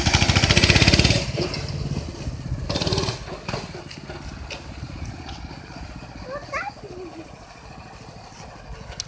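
A mini bike engine putters steadily as the bike is ridden, with a louder rev at the start that fades to a lower running drone; birds chirp faintly in the background.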